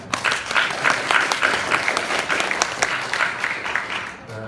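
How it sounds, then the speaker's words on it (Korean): A church congregation applauding together during a service: loud, steady communal clapping in a rhythmic patter from many people, fading out at the end. "자, 우리 모두 승리하는 우리를 위해서 서로 함께 박수하겠습니다."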